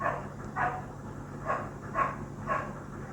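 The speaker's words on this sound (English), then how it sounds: "There are dogs barking outside." Dogs bark outdoors at a distance, four or five muffled barks spaced about half a second apart, picked up through a Samsung Galaxy Buds Pro earbud microphone over a low steady hum.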